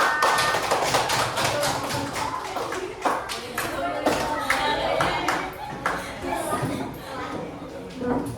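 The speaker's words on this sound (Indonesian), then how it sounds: "Beri tepuk tangan untuk kelompok 4" Small group in a classroom clapping for a team of classmates, irregular uneven claps and taps close by with voices chattering underneath throughout.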